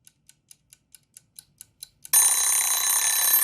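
An egg timer ticks eight times in a quiet room, then breaks into a loud, continuous metallic ringing that lasts to the end.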